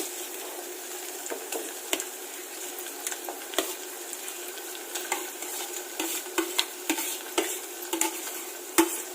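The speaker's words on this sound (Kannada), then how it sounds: "ಒಗ್ಗರಣೆ ಬೆಂದಿದೆ ಈಗ ಸ್ಮ್ಯಾಶ್ ಮಾಡಿ ಇಟ್ಕೊಂಡಿರುವಂತ ಆಲೂಗಡ್ಡೆನ ನಾನು ಇದಕ್ಕೆ ಹಾಕ್ತಾ ಇದ್ದೀನಿ" Mashed potatoes are worked into a hot tempering in a pan, with repeated spoon taps and scrapes over a soft, thin sizzle, at a moderate level and without voices.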